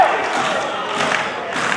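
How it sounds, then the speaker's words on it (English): A wrestling crowd at a live indoor show roars and cheers without a break, a thick, loud wash of many voices that swells near the middle and again toward the end. "And here you got the crowd fired up."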